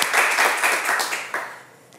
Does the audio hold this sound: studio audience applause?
yes